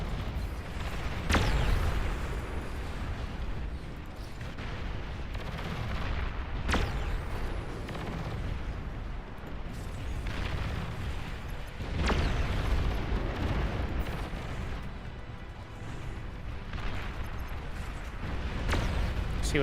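Heavy pulsar energy shots and explosions in the RTS game Beyond All Reason pound through a dense, continuous battle roar, with sharp blasts bursting out every few seconds over a constant low rumble.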